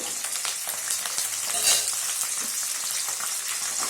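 Peanuts, curry leaves and slit green chillies fry in hot oil in a pan, giving a steady, close crackling sizzle with light stirring, and no voices.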